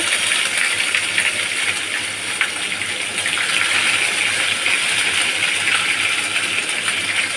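Ginger fries in hot oil as tempering for an ash gourd and coconut dish, a steady, close, bright spattering hiss that runs unbroken from start to finish.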